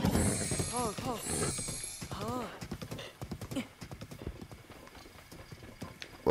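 A horse galloping in Zelda: Breath of the Wild, rhythmic hoof clip-clop that grows into quicker beats, with someone talking over the first half and a whinny-like tone early on.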